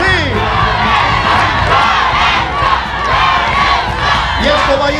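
A large crowd shouts a loud, sustained cheer, many voices overlapping continuously without pause.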